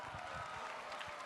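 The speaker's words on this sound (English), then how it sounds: "Let's give them a huge round of applause." Audience applause at a school's 200th Founder's Day celebration in an expo hall, a faint, steady wash of many hands clapping in a large room, heard alone.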